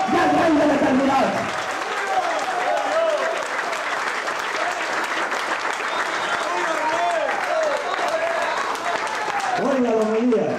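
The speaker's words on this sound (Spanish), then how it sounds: "levántense y aplaudan al Rey del Universo y al Rey de la Eternidad" A church congregation at a thanksgiving service in Apopa applauds loudly and continuously for about ten seconds, with a voice heard at the start and again at the end.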